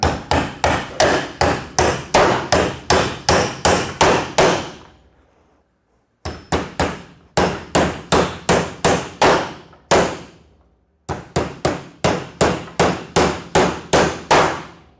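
Rapid, loud blows of a battery-powered hammer driving nails in three sustained runs separated by short pauses, each strike sharp and close, with no voices.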